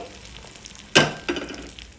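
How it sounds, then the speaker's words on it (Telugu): Tempering spices sizzle in hot oil for a cucumber chutney, with a sharp loud burst as they hit the pan and a second smaller crackle after, then a low steady fizz. "తాలింపు అయితే చక్కగా వేగిపోయింది కదా"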